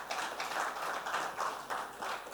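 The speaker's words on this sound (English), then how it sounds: "A round of applause for the World Education Congress." Audience applause at an education congress awards ceremony, with a hall full of steady clapping that swells in even waves, fairly soft and spread out in the room.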